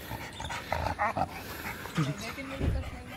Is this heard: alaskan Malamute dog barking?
yes